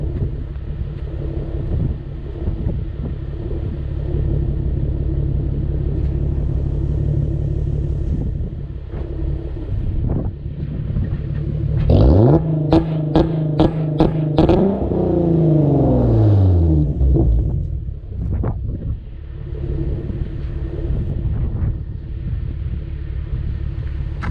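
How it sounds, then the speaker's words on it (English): A Nissan 370Z revs hard during a launch-control run, its engine note sweeping up and holding before dropping away, loud and close over steady wind rumble, with no talking. "before I put the car away, I figured I'd do the launch control"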